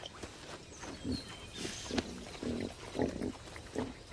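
Soft snuffling grunts and rustling close by, short bursts repeating every half second or so, as a small group of pygmy hogs roots through forest floor leaf litter for nuts and insects in India.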